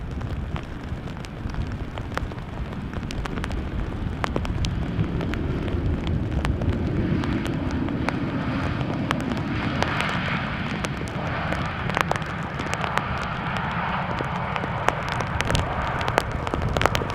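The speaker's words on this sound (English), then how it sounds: "next up another KLM 737. This one arriving from Manchester" A KLM Boeing 737 arriving from Manchester lands at Amsterdam Schiphol in a post-storm crosswind, a steady broadband roar of engines and wind that swells mid-clip amid gusty buffeting and crackle, with no talking.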